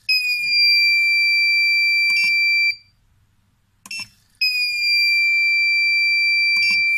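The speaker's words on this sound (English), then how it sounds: "when it reaches 6 liters per minute, it will alarm" A US208MA flow meter alarm beeps in two long, steady high-pitched tones separated by a pause, with a short clatter in between, loud and close.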